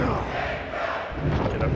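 A capacity arena crowd roars steadily in the wrestling video game WWF Attitude, a loud continuous wash of cheering with commentary voices mixed in.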